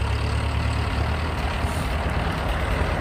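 A Ford 8N tractor engine runs steadily while moving branches and logs, a continuous low, throbbing mechanical drone heard close and fairly loud with no talk over it.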